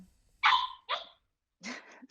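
Dogs bark close by in three sharp, rough barks, two quick ones then a third after a short pause, with no talking.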